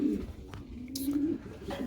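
Pigeons cooing inside a loft, low throaty warbling coos repeating close by, with a brief rustle or flutter partway through.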